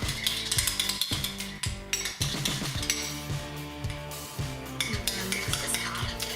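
A spoon mixes a yogurt, lemon juice and orange juice face mask in a bowl, making rapid rhythmic scraping and clicking strokes close by, with no one speaking.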